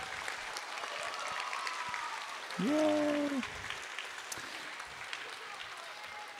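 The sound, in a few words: applause for award recipients at school ceremony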